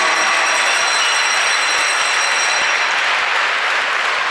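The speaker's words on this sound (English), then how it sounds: "Another big round of applause for the Clarington Eagles for being finalists again this year in the Schmalz Cup" Arena crowd applauding the Clarington Eagles junior hockey team as Schmalz Cup finalists, a loud, dense and steady wash of clapping that fills the whole stretch without a break.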